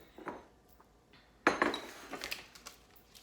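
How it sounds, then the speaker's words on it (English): A metal spoon scraping and clinking against a pan while breaking up lumps of sugar as it melts; a couple of soft knocks, then a louder burst of close scraping and tapping. "I'm gonna break up the rocks of sugar with my spoon while it melts."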